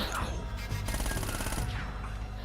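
Steady automatic gunfire rattles through an Uncharted gunfight. The shots are rhythmic and moderately loud against background action noise, with no speech.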